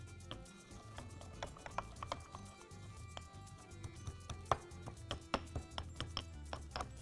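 Garlic cloves pounded with salt in a mortar into a smooth, creamy paste: a steady run of sharp, close knocks and thuds, some louder than others, repeated throughout with no talking.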